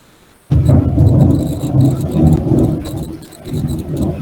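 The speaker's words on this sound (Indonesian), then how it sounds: "kalau hujan itu terdengar banget ya, apalagi kalau ada petir" Heavy rain and thunder burst in suddenly and loudly through an open roof under renovation, then keep up a thick, rumbling roar that swells and dips without any voices.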